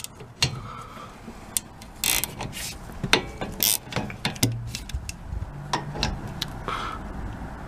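Wrench clicking and ratcheting on caliper slide pin bolts of a 2010 Ford Edge rear brake, irregular metallic ticks and clanks close by, with scattered louder knocks.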